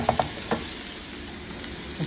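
Onions and mushrooms sizzling in butter for a brisket stroganoff, a close steady sizzle opened by a few sharp clinks of a utensil against the pan.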